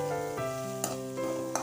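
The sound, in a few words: ground peanut, dried chilli and garlic mix added to frying bottle gourd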